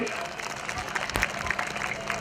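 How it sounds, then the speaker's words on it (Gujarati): Brief burst of audience applause at a community wedding gathering in Surat, dense clapping heard throughout with a sharp clap or knock in the middle. "બરાબર, એકવાર જોરદાર તાળીઓના નાદથી."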